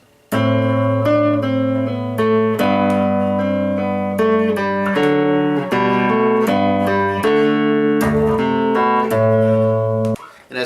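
Piano playing Minuet in G with both hands, a steady stream of clear melodic notes over a moving bass line, close and full for about ten seconds before stopping.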